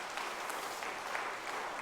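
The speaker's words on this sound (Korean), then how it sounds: "우리 환영 박수 한번 해야 되겠죠?" Brief, even applause from a church congregation welcoming a visiting pastor at a Wednesday prayer service, steady and moderately distant with no voices over it.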